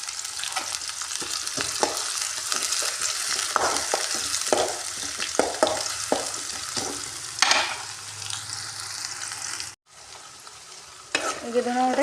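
Chopped onion and garlic paste fry in a pan for potato cutlets: a bright, close sizzle with frequent rhythmic stirring scrapes, a brief cut to near silence, then the sizzling resumes.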